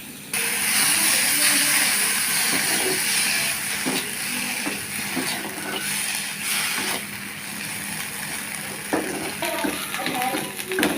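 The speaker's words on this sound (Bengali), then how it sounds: "এখন তেলের মধ্যে ভাজে নিতেছি" Small washed shrimp frying in hot oil make a continuous loud sizzle with crackling pops that runs throughout, while a person talks over it.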